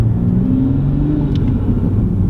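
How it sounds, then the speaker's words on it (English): A 2021 Toyota Supra fitted with an MST intake cruising just after leaving a driveway, a steady low engine rumble with faint intake whir, close and continuous, no voices. "we could already hear the intake"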